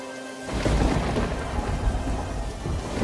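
Heavy rain pours down with rolling thunder in a village storm, a dense, loud roar that swells in suddenly after a brief quiet start and stays continuous throughout.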